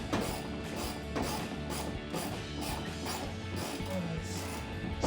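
A socket wrench with a 10 mm socket ratchets a bolt into a Tacoma headlight housing. Faint, quick clicking bursts repeat in short runs at close range.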